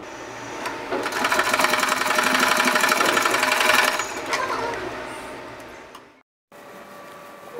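A sewing machine runs a fast, steady stitching burst of about four seconds on a frill pillow cover made from old tops, then slows and stops, followed by a brief silence and faint room noise.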